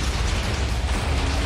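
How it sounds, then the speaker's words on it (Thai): An explosion in Minecraft: a loud, dense blast of rumbling noise that fills the whole moment without a break, heavy in the low end. "โอ้ไม่มันระเบิดไปแล้ว"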